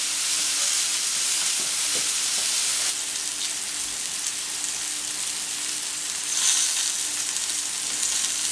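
Duck breast (magret) cooking skin-side down on a plancha, its fat rendering, gives a steady, loud broadband sizzle with a faint hum beneath. The sizzle stays unbroken and swells briefly near the end. No voices.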